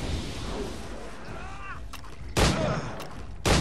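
In the video game Assassin's Creed Liberation, two sharp, loud gunshots crack out about a second apart over a rumbling game ambience.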